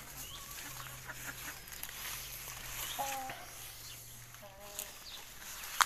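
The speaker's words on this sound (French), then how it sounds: "Ça c'est le coin des poules." Hens clucking in the chicken corner of a garden, a few short scattered clucks at moderate distance over a steady low hum and faint background noise.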